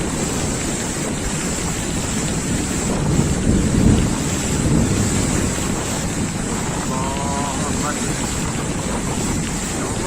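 A storm in Malaysia, with heavy wind roaring continuously as a loud, dense rush across the whole stretch, a slight swell near the middle and no distinct thunderclap standing out.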